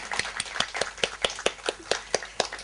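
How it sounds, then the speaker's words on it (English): A small story-evening audience claps for itself in a loose, steady rhythm of about a dozen claps, close and moderately loud, with no talking. "Can you please clap for yourselves?"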